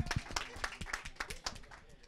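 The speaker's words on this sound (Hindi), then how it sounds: "जोरदार तालियां।" An audience at an antakshari singing contest claps in a steady, evenly spaced rhythm of sharp, fairly close claps lasting about two seconds.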